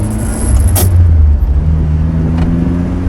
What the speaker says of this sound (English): See, a 4-cylinder engine can sound good.